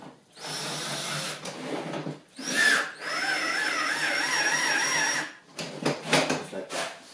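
A power drill whirs in controlled bursts while working on a 3018 PRO CNC machine upgrade, with a few short starts and stops, one longer steady run of rising and falling pitch, then brief clicking handling sounds.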